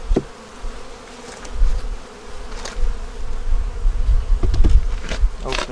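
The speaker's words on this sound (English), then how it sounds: "Bees flying out." Honey bees buzz at an open hive while frames holding the queen, eggs and brood are moved, a dense, close, continuous drone that swells and fades with no talking.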